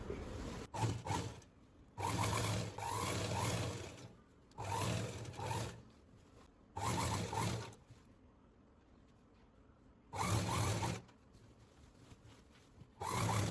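A sewing machine stitches a churidar seam in several close bursts of rapid whirring, each lasting a second or two, separated by short quiet pauses.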